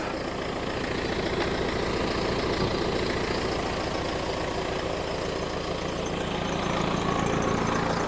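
A John Deere 6330 tractor, a 125–128 horsepower utility model in ideal condition, idles steadily nearby with an even, low diesel rumble and a constant throb, without any voices.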